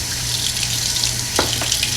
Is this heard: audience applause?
no